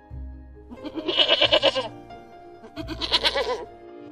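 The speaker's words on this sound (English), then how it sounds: "Goat." A goat bleats twice up close, each call a wavering, quivering bleat lasting under a second, with a short pause in between.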